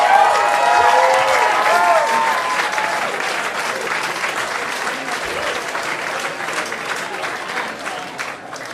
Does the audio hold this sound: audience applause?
yes